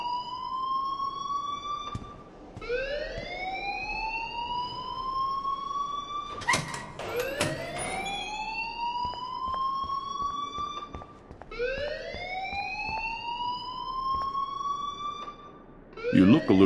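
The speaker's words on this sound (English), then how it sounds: "please turn off that alarm since that's your job" Rising and falling electronic alarm siren wails repeatedly in the Life is Strange video game, loud and continuous through several sweeps, with occasional thuds and a voice speaking at moments.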